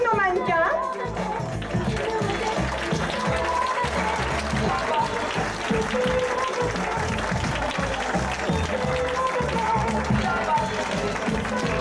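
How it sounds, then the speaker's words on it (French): An audience at an evening fashion show applauds the models with sustained, dense clapping that fills the room steadily for over ten seconds, mixed with some crowd noise. "Je pense que nous pouvons applaudir tous nos mannequins."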